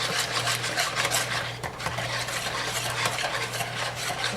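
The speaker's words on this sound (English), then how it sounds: "Just use a wire whisk for this." A wire whisk stirs a wet batter of milk, eggs, butter and vanilla in a bowl, with a continuous scraping, rubbing rhythm and light clinks, close and steady with no talk.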